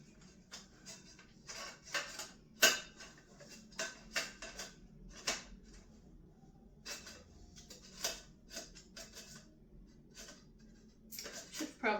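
A metal springform cake pan is snapped together, producing a string of light clicks, taps and clattering knocks close by, with a voice talking over them throughout.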